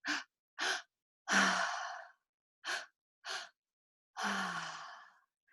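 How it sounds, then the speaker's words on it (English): Two-step breathing exercise from a somatic breathwork practice: two quick inhales followed by one long, drawn-out exhale, and the pattern is done twice. The breaths are close and clear, with silence between them and no talking. "you sometimes see that 2-step breathing I do."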